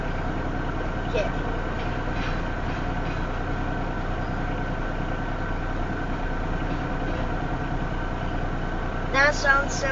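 A southbound Union Pacific stack train with a Norfolk Southern locomotive creeping slowly near Elkhart, Iowa: a steady low diesel rumble with a faint metallic squeal near the end.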